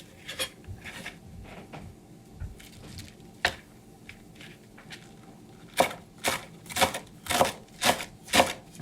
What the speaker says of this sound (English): And then chop the cabbage just in small stripes.